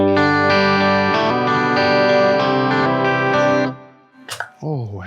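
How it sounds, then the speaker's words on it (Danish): Twelve-string guitar strummed in a few ringing chords with a shimmering, chorus-like doubled tone, then cut off as a voice begins talking near the end. "Og den 12-strenge lyder sådan her."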